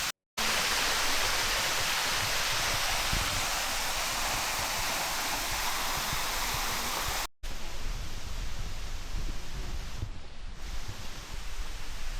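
Steady rushing of flowing water fills the scene, loud and continuous like a nearby cascade, broken by a brief cut before the rush resumes slightly softer.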